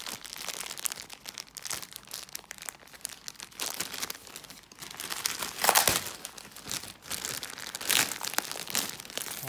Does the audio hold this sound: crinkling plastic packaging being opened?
yes